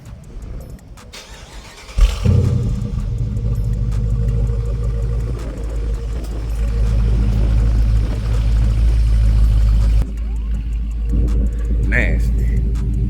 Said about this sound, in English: We always gotta do the cold start.